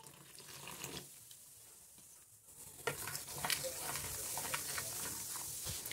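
Mineral water is poured into a pumpkin pie batter of mashed pumpkin and sugar, starting quiet and then turning into a steady fizzy splash and stirring that grows louder.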